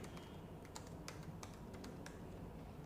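Quiet, rapid tapping of computer keys, a run of irregular clicks over a soft background hiss.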